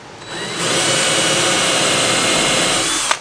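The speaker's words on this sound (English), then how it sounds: "then I will just take a normal drill bit to drill down through" A power drill whirs steadily at high speed for a few seconds, a loud continuous grinding whine that cuts off abruptly with a short click at the end.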